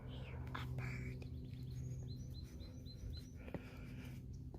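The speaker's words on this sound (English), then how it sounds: "I hear a bird." Short repeated bird chirps along a river during a hike, faint and clustered in the middle of the clip over steady low rumble and quiet whispery voices.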